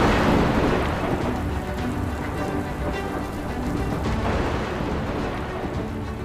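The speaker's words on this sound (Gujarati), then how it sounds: "સૌરાષ્ટ્રમાં આવ્યો સાંબેલાધાર।" A heavy downpour with thunder pours over Junagadh and Gir Somnath in Saurashtra, Gujarat: a dense, loud, unbroken roar of rain with low rumbling swells.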